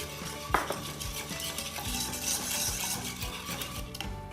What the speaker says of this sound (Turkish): Panakottamı ara ara karıştırıyorum.